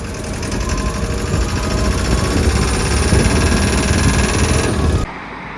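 A steady, close engine running with a dense mechanical rumble and a high whine, cutting off abruptly near the end.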